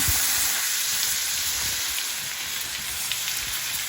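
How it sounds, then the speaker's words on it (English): Garlic and translucent onions fry in a pan for Southern fried cabbage, giving a steady, close, even sizzle with a few soft crackles throughout and no talking. "the onions are looking kind of translucent now, and I'm gonna put the garlic in here"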